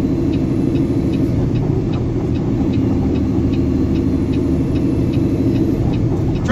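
A small, short truck drives past over the speed limit, its engine giving a loud, close, continuous rumble with a faint ticking layer on top and no voices.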